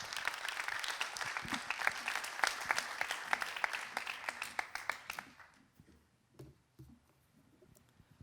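An audience at a public town meeting applauds warmly for several seconds before the clapping fades out, leaving a handful of scattered, isolated claps in a quiet room.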